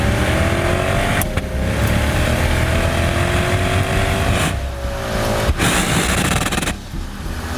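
Lexus IS 500 Ultimate Edition V8 engine heard from outside, a steady loud drone with rising pitch as it accelerates and a few sharp gear-change breaks, close and without talk.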